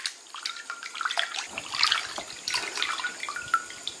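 Pork pieces are dropped into a bowl of clear water to soak, giving close, busy splashing and sloshing that runs steadily for a few seconds with no speech.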